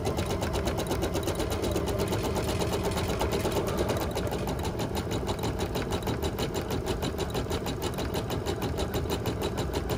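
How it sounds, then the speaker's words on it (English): An embroidery machine stitches with orange thread in a fast, steady, continuous mechanical chatter, close and even throughout without pauses. "All right, I've got the orange color threaded up, so now it's time to start sewing with this one"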